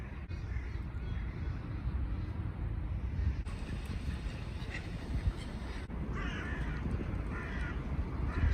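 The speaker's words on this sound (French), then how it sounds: "On a assez de se faire agresser par les corbeaux là" Several crows caw in loud harsh calls against steady wind rumble, with no talking.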